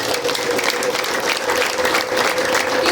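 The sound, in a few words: audience applause and ululation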